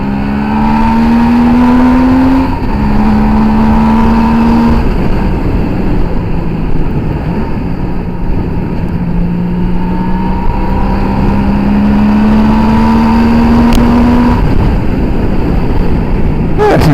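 A Suzuki GT750A motorcycle engine pulls hard on a road test, loud and steady, rising in pitch through repeated gear-held accelerations with a brief dip between runs, wind and road roar constant throughout.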